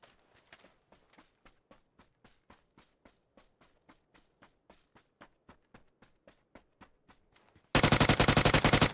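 Gunfire in the PUBG battle royale game: a long, steady series of sharp single shots and footstep-like thuds, faint at first, then a sudden loud burst of dense rapid fire at the end.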